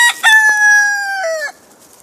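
A rooster crows one loud, close cock-a-doodle-doo with a short rising start and a long held note that drops at the end, then gives way to quiet background.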